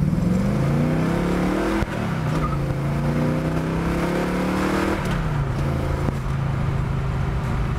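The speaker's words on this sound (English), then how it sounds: "I'll give you an actual test run so you can see how fast she really is" A 1967 Chevrolet Chevelle with a 454ci V8 accelerates hard in first gear, its engine note climbing in loud rising sweeps, a brief dip near two seconds and another at five as the revs shift, with no talking.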